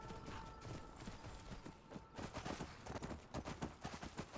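A horse gallops along in the Skyrim Special Edition video game, its hooves clip-clopping in a quick, steady rhythm at moderate loudness, with no speech over it.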